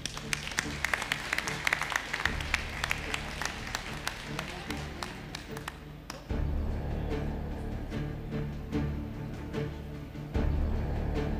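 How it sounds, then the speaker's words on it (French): Crowd applauding young presenters at a livestock genetics show, sustained dense clapping from a large audience, with a low rumble and background noise growing louder partway through. "je pense qu'on peut les applaudir bien fort"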